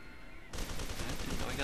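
Automatic gunfire emptying a magazine into an enemy in the shooter game F.E.A.R. 2, a sudden continuous rattling burst of rapid shots after a brief quiet start.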